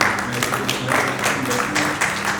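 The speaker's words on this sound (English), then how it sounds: "Please welcome with a huge round of applause" Seminar audience applauding steadily as a guest speaker is welcomed on stage, a dense even wash of many hands clapping at moderate level with faint tonal hum beneath, continuous throughout.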